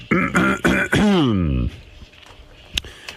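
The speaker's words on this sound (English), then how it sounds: "Have to clear my throat." A single throat clearing, a harsh rasping burst followed by a drawn-out voiced groan, close to the mic, then quiet with faint clicks.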